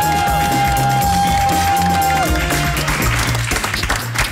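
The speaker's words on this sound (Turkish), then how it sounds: "Ben kırmızı takım için bir alkış rica ediyorum." Studio audience applause and cheering for the winning red team on a Turkish TV game show, steady crowd clapping mixed under loud music and some voices.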